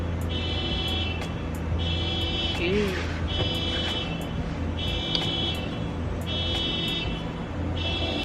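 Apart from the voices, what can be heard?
car alarm going off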